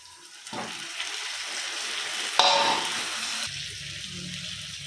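Tomatoes dropped into a hot pan for egg curry, a sudden loud sizzle that starts abruptly and continues as a steady hiss, with a brief clatter partway through.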